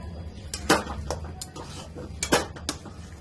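Sesame chikki mixture is stirred in a pan over low flame, giving a handful of scraping clinks and knocks of a spoon against metal at an uneven pace, close and moderately loud, with no talking.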